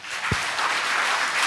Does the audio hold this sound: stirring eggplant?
no